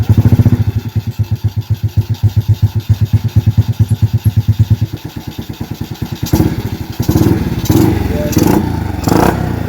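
Motorcycle with a newly fitted aftermarket exhaust idling close by with a fast, even thumping pulse, then blipped and revved in short loud bursts.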